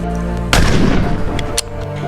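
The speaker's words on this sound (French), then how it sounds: "C'est ainsi qu'un violent coup de feu retentit." A single loud gunshot from a hunter's rifle cracks sharply and booms, then a long rolling echo decays, set against a steady background hum.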